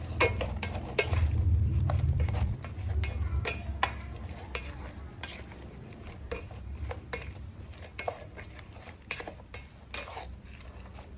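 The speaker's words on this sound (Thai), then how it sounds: "คนตอนฮ้อนๆเลยทุกคนมันจึงจะเข้ากันดี" Spicy mushroom koi salad being stirred in a pot, a steady run of light scraping and clinking strokes against the metal, close and fairly quiet with no talk over it.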